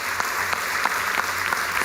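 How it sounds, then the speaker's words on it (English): Audience applause at a conference, a dense, steady wash of many hands clapping that fills the whole stretch at an even level. "Ladies and gentlemen, a huge round of applause"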